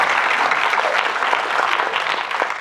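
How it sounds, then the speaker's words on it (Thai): An audience applauds steadily during an interview session with the cast and crew of a drama series' first episode, a dense, fairly loud wash of clapping that holds evenly throughout. "ขอเสียงปรบมือด้วยนะครับ"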